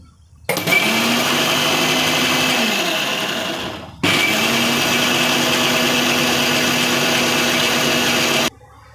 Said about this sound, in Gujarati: પાછું આપણે ક્રશ કરી લઈશું